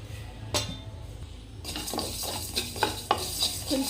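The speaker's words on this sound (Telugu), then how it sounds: "2 స్పూన్ల ధనియాలు, ఒక దాల్చిన చెక్క, 2 స్పూన్లు మెంతులు, ఒక 10 లవంగాలు అన్ని బాండీలో వేసుకొని మొత్తం వేయించుకోవాలి." Whole spices — coriander seeds, cinnamon stick, fenugreek and cloves — stirred and dry-roasted in a pan for chicken pickle, with repeated scraping clinks of a spoon against metal and a soft sizzle, close and steady.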